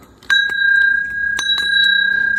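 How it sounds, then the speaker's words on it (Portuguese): A small decorative bell topped with a little rooster figure, rung a few times with bright sustained tones and short tinkling strikes, close and clear with no talking. "Sininho com um galinho em cima."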